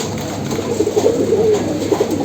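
A red jira pigeon of the army line coos in soft, repeated low phrases close by, steady against a constant background hum with no voices.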